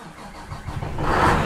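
A 2013 Scania R560 V8 truck turns over and catches, its starter cranking into a deep rumble that builds and swells over a second and a half, close and fairly loud with no talk.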